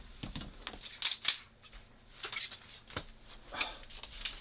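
Utility knife slicing through foam board along a bent crease, a few short scraping cuts with crisp rasping bursts, close and fairly quiet, with handling rustles between strokes.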